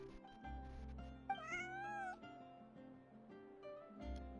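In the video game Genshin Impact, a small cat gives a single rising-and-falling meow, soft and somewhat distant over quiet game music, with no talking over it.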